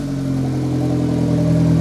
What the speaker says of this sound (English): I'm calling this a win because the motor is idling fine.